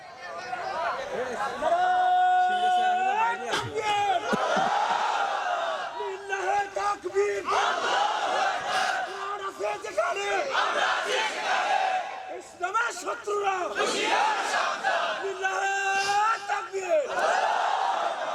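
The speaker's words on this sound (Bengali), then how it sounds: "একজন স্লোগান দেন দেখি একজন তাকবীর দেন দেখি" A large crowd at a religious rally chants slogans and the takbir in loud unison, voices rising and falling in repeated waves of call and response for the whole stretch, close and dense.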